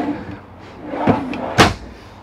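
Large full extension drawers slide and shut inside a 2018 Tiffin Phaeton 40QBH motorhome, giving two short, solid knocks close by against a quiet interior.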